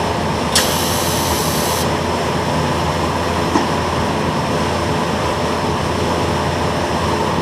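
A steady, loud crackling buzz of stick welding with a rod runs continuously on the fender of a 1954 GMC truck, with a brief high-pitched tone near the start.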